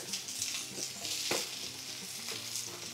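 Vegetables, celery among them, fry in a very hot pan for Costco yakisoba, giving a loud, steady, close sizzle with bursts of crackle as the pan is stirred.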